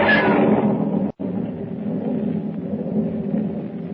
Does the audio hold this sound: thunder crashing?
yes